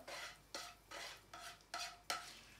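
Beef dulet fries and is stirred in a very hot iron pan, with six regular scraping strokes and a soft sizzle between them. The sound is quiet and close, with no talking.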